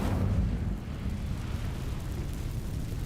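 An Incendio fire spell cast in Hogwarts Legacy, a steady loud roaring whoosh of flame with a low rumbling body that holds fairly evenly throughout.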